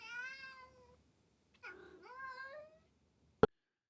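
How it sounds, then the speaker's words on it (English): A cat meows twice, long drawn-out calls with a pause between them, close and clear in a quiet room, followed by a single sharp click. "That is a cat in the background."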